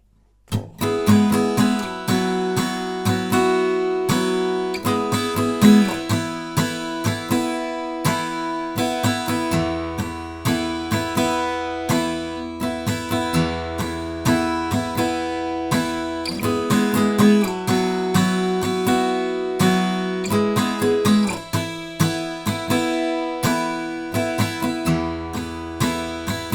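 The intro of a song played on guitar, steady strummed chords ringing continuously and loud for the whole stretch, close and alone with no talking.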